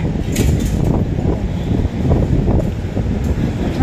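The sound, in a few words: strong wind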